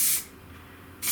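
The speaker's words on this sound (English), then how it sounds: "holding about 6 to 8 inches away from the panel, and start the spray off the panel." Rattle can spray paint hisses onto a car panel, a steady close hiss lasting about a second with louder bursts at the start and end.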